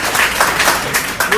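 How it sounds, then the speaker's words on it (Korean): A live audience at a talk-show taping gives a brief, thin burst of scattered clapping, mixed with voices. "자, 박수 한번."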